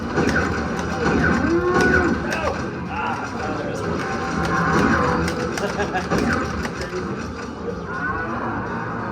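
Cartoonish cattle moos from an arcade UFO-shooting light-gun game in a busy Las Vegas arcade, blaring loud and continuous amid game noise, crowd din and a nearby voice talking.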